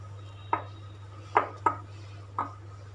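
A spoon knocks against the bowl while sweet potato brownie batter made with butter and finger millet flour is mixed. Four sharp, separate taps sound close over a steady low hum.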